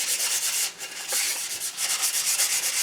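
Steady, continuous hand sanding of a metal heat shield for a Triumph, a close, hissing abrasive rub that runs without a break and dips briefly in the middle.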